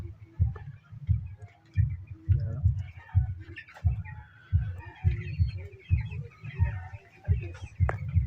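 Backyard chickens cluck in a repeated, steady rhythm close by, with low thumping pulses running beneath the calls and no talking over them.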